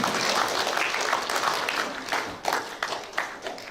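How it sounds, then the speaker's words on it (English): A crowd claps steadily throughout at a school assembly, a dense patter of hands that thins slightly toward the end. "a round of applause for our staff member and student"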